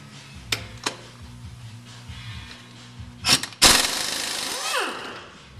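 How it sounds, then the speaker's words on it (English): An impact wrench fires a loud rattling burst to loosen the harmonic balancer bolt on a 5.3L LM7 engine. A few short clicks and knocks come first, then the sharp, close hammering burst trails off into a winding-down whir. "We're going to loosen the harmonic balancer bolt with an impact wrench."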